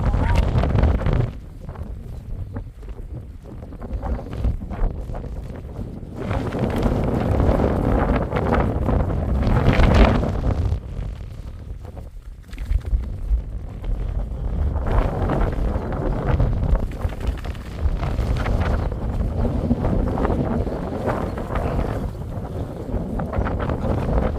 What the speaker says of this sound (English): I was hoping we'll get a spot out of the wind, but it doesn't look like there's no shelter anywhere